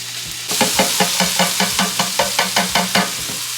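Canned corn sizzling in a hot pan while a spoon stirs it, a steady frying hiss with regular scraping taps about every quarter second, close up with no talking.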